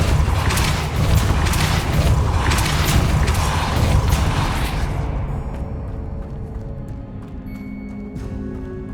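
A Depulso spell cast in Hogwarts Legacy: a loud burst of rumbling, mechanical whooshing effects with rhythmic pulses that fades into a quieter ringing tail.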